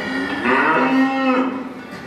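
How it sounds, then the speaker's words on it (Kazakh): A single cow moos, a loud drawn-out low call lasting about two seconds, close by. "Сиыр."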